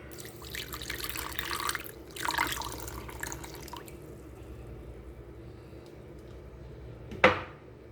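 Water is poured for cinnamon roll dough, two short splashy pours near the start, then a quieter stretch and a sharp single drip or splash near the end.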